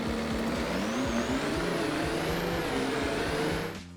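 A truck hauling bales in Farming Simulator 25 drives along with a loud, steady engine drone and shifting pitch, alone with no voices, ending in a short hiss and fade.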